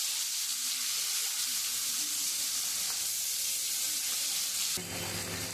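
Turmeric-coated koi fish fry in hot oil in a pan, a dense continuous sizzle close by that shifts abruptly in tone just before the end.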